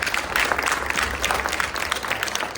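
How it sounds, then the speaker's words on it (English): An audience at a Global Entrepreneurship Week panel event applauds, a steady wash of many hands clapping for a few seconds with no talk over it. "let's give KC SourceLink, the Global Entrepreneurship Week team, sponsors, supporters, a round of applause for excellent work"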